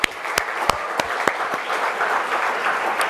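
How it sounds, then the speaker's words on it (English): Applause for newly qualified chartered accountants at a felicitation ceremony opens with a few sharp, separate claps and then swells into a steady wash of clapping from the audience. "So big round of applause for all of you."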